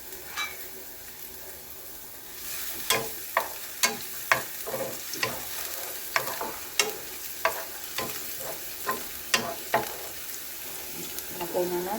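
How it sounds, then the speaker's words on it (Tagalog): Onion and garlic sautéing in cooking oil in a pan, a soft continuous sizzle broken by repeated sharp clicks of a utensil stirring, close up. "igisa na natin tong ating sibuyas at bawang"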